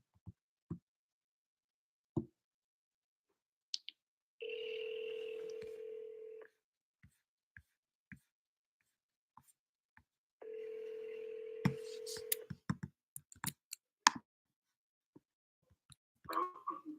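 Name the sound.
telephone dialing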